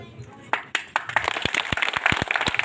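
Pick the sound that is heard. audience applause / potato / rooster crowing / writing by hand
audience applause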